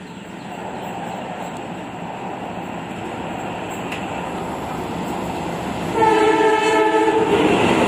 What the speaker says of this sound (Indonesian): Nah, nantinya keretanya akan melintas langsung di sini.